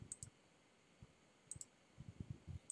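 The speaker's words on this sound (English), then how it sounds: "I'm just clicking with my left mouse button" Left mouse button clicked repeatedly while digitizing a logo in Inkscape with InkStitch, giving faint, close, sharp clicks in scattered pairs and short bursts with no talk over them.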